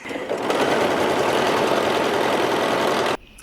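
A sewing machine stitching a flat felled seam on a linen pullover top, one loud, close run of rapid even stitching lasting about three seconds before it stops abruptly.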